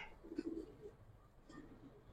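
Silver pigeon, a tournament-bred Bangladeshi giribaz, cooing softly in two brief low coos against quiet room noise.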